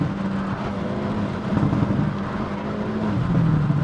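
Hyundai Elantra N accelerating with N Grin Shift, heard from inside the car as a loud, steady engine drone that rises in pitch, dips briefly at a shift and then builds again.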